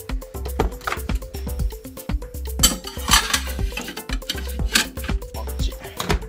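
Tray of hot-cake-mix scones slid into an oven preheated to 180 degrees, with repeated metallic clanks and rattles of the tray and rack in a steady close-up rhythm and no voices.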